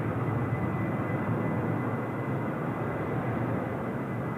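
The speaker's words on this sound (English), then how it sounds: "Air China just departing now as well." An Air China airliner departs Seoul Incheon Airport, a steady distant roar of jet engines with broad rumbling noise, sustained and even throughout without talk.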